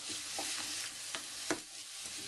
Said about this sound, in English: I'm just going to fry those up